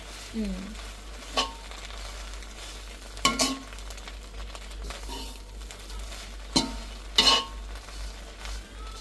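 Fish curry fries in a little oil in a pan, a soft steady sizzle running throughout with several sharp clinks and scrapes of a utensil against the pan at irregular moments, close by.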